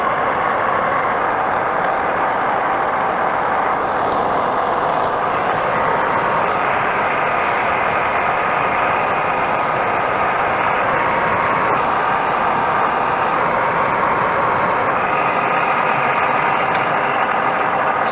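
A lathe takes steady, continuous cuts about twenty thousandths deep on a balancer spacer, producing an even, loud machining drone with an engine-like hum that holds unchanged for the whole stretch with no talking.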